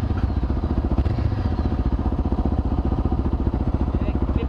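A motorcycle engine runs close by with a rapid, throbbing pulse, loud and continuous with a rattly edge.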